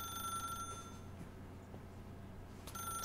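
A telephone rings steadily in a video game, a thin electronic bell tone that holds quietly across the moment and swells again near the end, with no talking over it.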